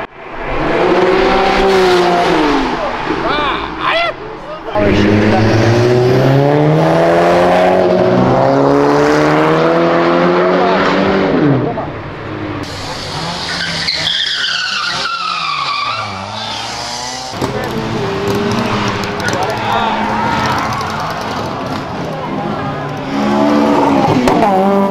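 Several car engines rev hard and roar past up close during illegal street racing in São Paulo, with rising and falling pitch sweeps, tire squeals and skids, loud and continuous throughout.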